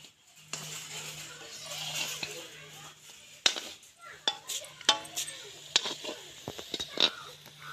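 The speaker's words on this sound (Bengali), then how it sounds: "আর বারবার এরকম করে নেড়ে চেড়ে নিতে হবে" Palm fruit fritters (taler bora) frying in a pan over gentle heat, turned repeatedly with a spatula: a low steady sizzle with scattered clinks and scrapes that grow busier toward the end.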